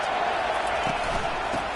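Football stadium crowd jeering and booing a pinned-deep offense, a dense, steady roar of many voices filling the space, loud and continuous with no single voice standing out.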